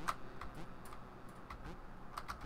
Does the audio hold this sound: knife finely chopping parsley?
no